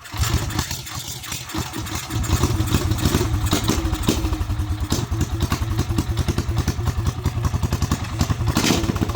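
Coleman B200RSV minibike with a 459 engine swapped in fires up for its first start and settles into a loud, close, rapid chugging idle with clattering, running steadily with no talk.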